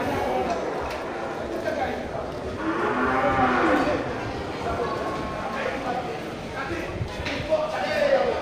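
Water buffalo bulls at a livestock market give low moos amid a steady crowd din, with people talking throughout and occasional hoof clatter.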